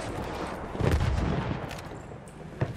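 Artillery and gunfire rumble across a Battlefield 1 battlefield, with heavy booming impacts and scattered shots rolling through a steady din of war. A sharper crack lands near the end.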